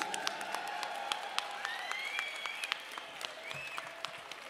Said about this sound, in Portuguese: aplaudindo bastante a nossa banda, as nossas músicas